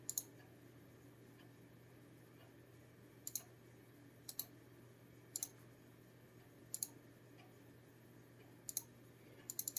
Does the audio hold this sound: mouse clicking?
yes